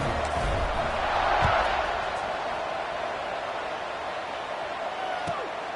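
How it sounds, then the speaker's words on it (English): Football stadium crowd roaring steadily during a kickoff, a dense, loud, continuous wash of cheering voices with occasional sharper whoops rising above the din. "this crowd is feeling themselves after that last drive"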